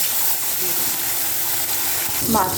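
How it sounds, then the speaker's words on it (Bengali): A salted, turmeric-rubbed fish head hits hot oil, giving a loud, steady frying hiss close by, with a brief voice near the end. "তেল গরম হয়ে গেলে মাছের"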